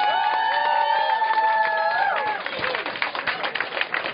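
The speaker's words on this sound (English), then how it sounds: "Please give them a round of applause." An audience at a poetry slam applauds and cheers, with clapping and crowd noise rising through the second half. A voice talks over the start.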